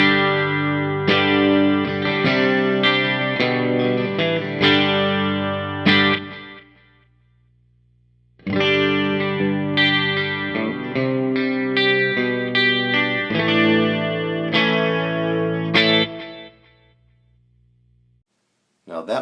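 An electric guitar on a clean tone strums chords and short riffs through a modded Fender Blues Junior amp, two bright, ringing phrases separated by a brief pause, each ending on a sustained low note.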